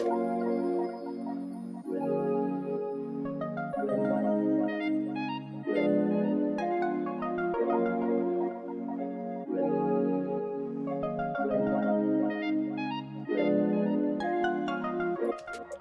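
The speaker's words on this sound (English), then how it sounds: "I went back into Repro 5 and I added this Arc Clary synth" Arc Clary synth patch in the Repro 5 synth playing a bouncy repeating chord pattern in short phrases, steady and upfront for about sixteen seconds with no voices.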